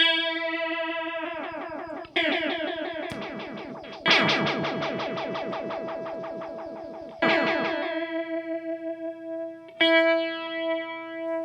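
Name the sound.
modulation effect pedal with triangle waveform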